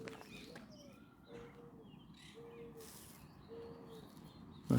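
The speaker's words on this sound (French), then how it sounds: "Ça, c'est des oiseaux." Several birds calling in the open, with soft repeated coos and faint chirps spaced across the moment over a low, steady outdoor background.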